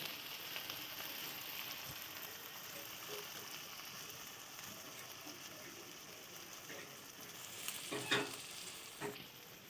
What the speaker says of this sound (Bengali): এবার আদা রসুন বাটাটা দিয়ে দিলাম, একসঙ্গে ভালো করে মিশিয়ে ভালো করে ভেজে নেব।